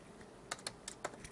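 Fingers tapping out code on a computer keyboard, a few quick separate keystrokes in short clusters, close and fairly quiet with no voices.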